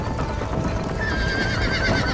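A horse whinnies in Red Dead Redemption with a rising, wavering cry over a busy background of hoofbeats and rumbling noise.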